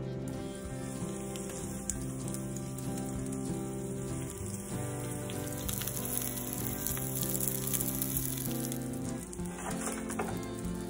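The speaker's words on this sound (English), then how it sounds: "And then we just need to fry these up." Dredged eggplant slices fry in oil with a continuous, dense crackling sizzle, even and close throughout, with a faint tonal hum underneath and no voices.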